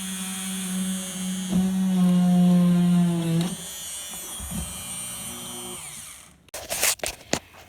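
A power drill bores holes in the wood of a trestle walkway with a loud, steady whine lasting about three seconds. Fainter knocks follow, then a few sharp clatters near the end.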